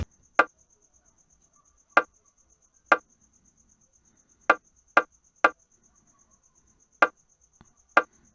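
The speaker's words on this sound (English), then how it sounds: "the third bongo. It sounds like this." A third bongo sample in an FL Studio Afrobeat beat plays eight crisp, brighter hits in a syncopated pattern, some grouped in quick pairs and others spread apart, each dry and short.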